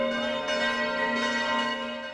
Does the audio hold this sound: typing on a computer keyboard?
no